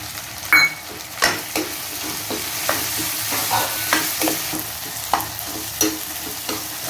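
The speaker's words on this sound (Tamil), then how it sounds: "நல்லா வதங்கட்டும் வெங்காயம் தக்காளி இஞ்சி பூண்டு பேஸ்ட் பூண்டு எல்லாம் நல்லா வதங்கி வரட்டும்" Onion, tomato, ginger-garlic paste and garlic sauté in a pan for an ivy gourd stir-fry, a constant soft sizzle punctuated by regular taps and scrapes of a spatula.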